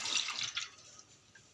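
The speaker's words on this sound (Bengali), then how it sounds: "এটা একটা মোল্ড নিয়ে নিচ্ছি, তাতে এটা ঢেলে নেব।" Warm coconut agar pudding mixture is poured into a mold, making a brief, close splashing and trickling stream that thins and fades within a second or two.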